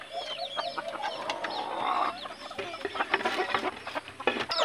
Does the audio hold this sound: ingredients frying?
no